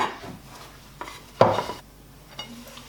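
A baked Easter chocolate cake being turned out of its pan, a few sharp metallic knocks and clanks of the tin with one louder thump in the middle, in a quiet kitchen.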